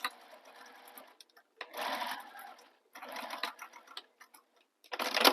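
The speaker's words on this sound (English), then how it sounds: "what I'm going to do is sew right off the edge" A sewing machine fitted with a zipper foot stitches a bag off the fabric edge in three short, quiet bursts of rapid ticking, with brief pauses between runs.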